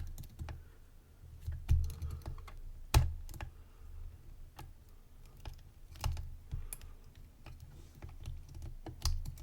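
A JPM 405 French pump lock being picked under tension, giving faint, sparse, irregular small clicks and taps over low rumbling handling noise, close to the listener.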